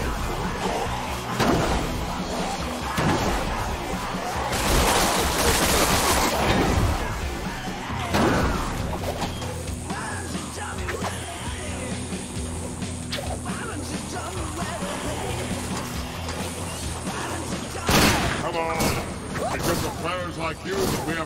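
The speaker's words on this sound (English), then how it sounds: "Open the weapon select menu and switch to the high fidelity. You know, the one that shoots records." The High Fidelity, a weapon that shoots records in the video game Sunset Overdrive, fires in repeated bursts amid crashing impacts and game effects, with a voice talking over the action.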